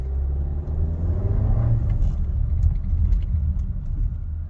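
A 2021.5 VW Atlas SUV with a 2.0-litre turbo engine and a pedal tuner, accelerating as if in drive: a steady, loud low rumble with a rising rev sweep partway through, alone without talk.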